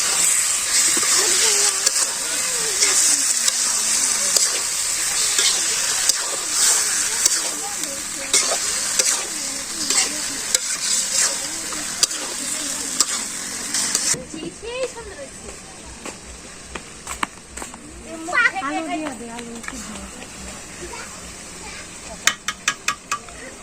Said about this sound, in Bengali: ভাজা আলু আলুটা আমি দিয়ে দিই মাংসের মধ্যে